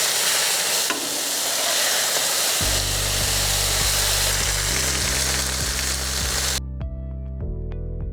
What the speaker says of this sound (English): You can hear the sizzle because this part hasn't been used too much.